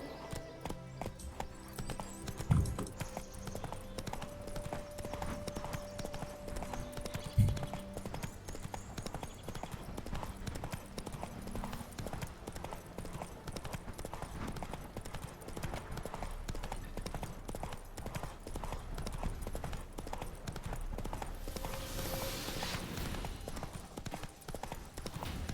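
Roach, a horse in The Witcher 3, gallops steadily with a continuous rhythmic clip-clop of hooves under game ambience, moderately loud, with a few brief voices and a faint whinny mixed in.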